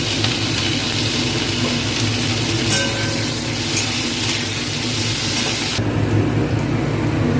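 Carrot, capsicum, beans and onion stir-frying in a little oil in a wok, a steady dense sizzle that holds through, with a rumbling low hum beneath and a sharp drop in the hiss near the end.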